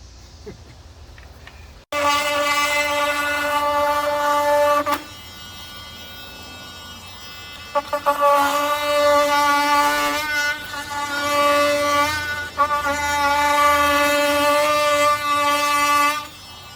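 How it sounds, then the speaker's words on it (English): A Porter-Cable Tiger Saw reciprocating saw cuts through a dry-rotted wooden beam, its motor a tonal, buzzing whine in two long bursts separated by a quiet pause, with brief dips where the blade works through the wood. "Porter cable Tiger saw."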